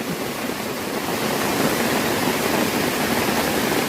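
A waterfall roars in a dense, constant hiss of rushing water beside a campsite at Khlong Lan, Kamphaeng Phet, Thailand, loud and close, with nothing else audible.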